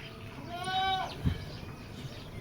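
A male Beetal goat, a top-quality breeding animal offered for sale, gives one loud, wavering bleat close up lasting about half a second, followed by a short thump against steady background noise.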